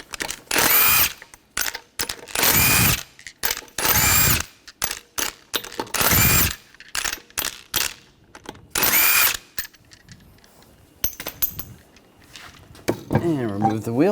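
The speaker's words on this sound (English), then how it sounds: "We're going to remove the lug nuts" Lug nuts on the front wheel of a 2013-2019 Ford Escape are zipped off with an impact tool and 19mm socket, several loud bursts in sequence, close by, with people talking between them.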